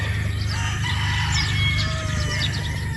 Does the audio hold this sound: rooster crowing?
yes